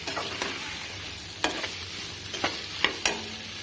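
Vegetables simmering in a pot with rock salt for a Tamil bread birinji rice, a steady bubbling hiss broken by a few sharp clinks of a spoon against the pot, close and moderately loud, with no talk.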